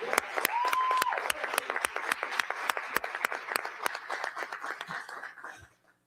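A campaign-event crowd claps, with distinct sharp claps standing out over a softer wash of applause and a brief whistle near the start; the sound thins out and fades to quiet toward the end.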